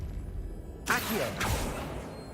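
An Accio summoning spell cast in the Hogwarts Legacy video game, a brief whooshing shimmer with a rising tonal sweep that fades over about a second.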